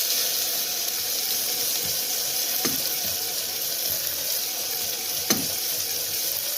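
Ground masala paste hitting hot oil in a pan, giving a steady broad sizzle with faint scraping and a couple of sharp clinks, close and continuous with no talking.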